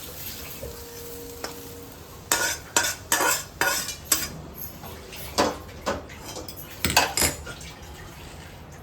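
Onion sautés in a pan with steady sizzling, broken by repeated scraping and clinking strokes of a spatula against the metal, no talk.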